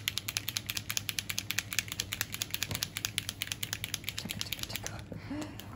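A white Posca paint marker is shaken hard, its mixing ball rattling in a fast, even series of sharp clicks for about five seconds before stopping, close and fairly quiet.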